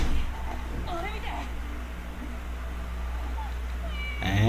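A cat meows a few times amid background chatter and a steady low hum, the cries rising and falling in short bursts.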